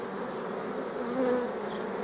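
Honey bees at a swarm buzz steadily and quietly, with a brief louder hum as one passes close, under low background noise.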